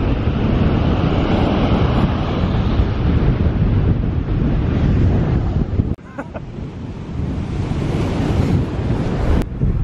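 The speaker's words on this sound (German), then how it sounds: "Und die Wellen sind richtig hoch hier" High ocean waves roll and crash on a sandy beach in a steady, loud wash of surf, with heavy wind buffeting the microphone throughout and a brief dip in the roar midway.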